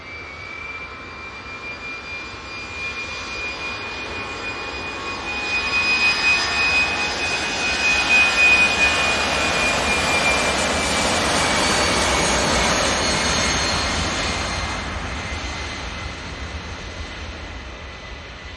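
A jet airliner at Manchester Airport roars past during early morning arrivals and departures, a steady broad engine rumble with a high whine that swells in the middle and then slowly fades.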